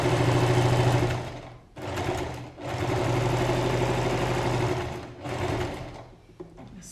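A sewing machine stitches a side seam at a 1 cm seam allowance, running in steady rapid bursts: a long run, a brief pause, another long run, then a shorter burst before stopping, heard up close with no talking.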